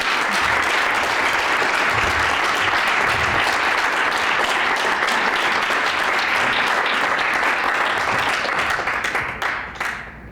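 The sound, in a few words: audience applause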